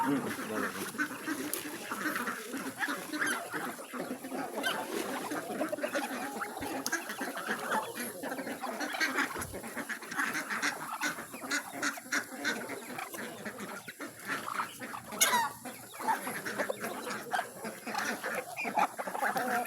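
Ducks and chickens at feeding time on a rural farm, a busy, continuous chorus of quacking and clucking at moderate distance, with people talking now and then.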